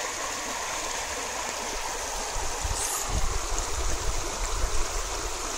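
A river flows in a steady, loud, close rush of water that continues unbroken, with a few low rumbles and thumps underneath and no voices.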